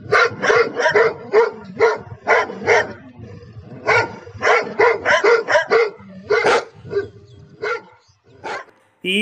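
A dog barks and yips in a rapid, uneven series of close, loud bursts with short pauses between clusters, trailing off toward the end.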